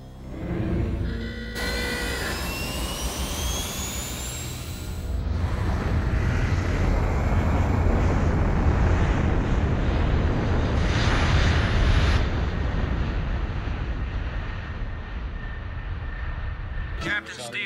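A stealth fighter jet flies overhead with a loud, sustained engine roar that swells in the middle and carries steady broadband rumble throughout.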